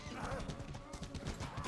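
Horse hooves clattering at a gallop in the medieval combat game Mordhau, a busy run of clip-clop beats mixed with game noise and voices talking over them.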